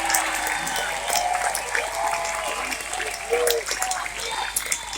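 Loud crowd applause and cheering, dense continuous clapping with whoops rising over it, close and sustained throughout.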